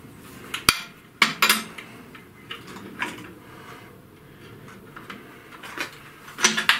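Spanner work tightening the nut on a lathe fixed steady, heard as sharp metallic clanks and taps at irregular intervals, close by in a quiet workshop.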